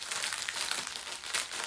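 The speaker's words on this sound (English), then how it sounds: "Sorry for the crinkling, but that's all part of the experience." Plastic packaging of a new Craftibly diamond painting kit crinkles up close, giving a continuous, bright rustle with irregular crackling peaks throughout.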